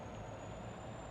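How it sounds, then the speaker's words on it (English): A truck in Farming Simulator 22 runs with its Jake brake engaged, a steady low rumbling engine drone with a thin constant high whine above it, continuous and fairly quiet. "You got the Jake brake on."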